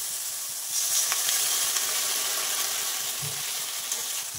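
Water poured onto sizzling fried spice masala for a fish-and-potato curry sets off a loud, broad hissing sizzle that swells after the pour and holds steady for a few seconds, close up and without talk.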